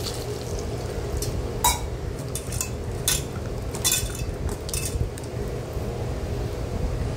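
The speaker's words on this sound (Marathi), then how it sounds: "आता ही मी वांगी स्वच्छ धुवून घेणार आहे।" Eggplants are rinsed clean in a bowl of water, with a soft steady sloshing broken by several light clinks and knocks against the vessel, close and fairly quiet.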